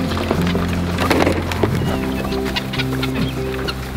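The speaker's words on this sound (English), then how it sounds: "Jonah, let the chickens out." Several chickens cluck and murmur continuously at close range, with overlapping calls over a steady low background hum.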